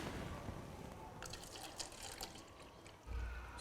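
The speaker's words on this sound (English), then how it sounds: "So, step 1, we'll add our water to our glasses." Water poured into drinking glasses, a faint continuous splashing fill with brief bright trickling near the middle and a soft low bump at the end, heard alone without any talking.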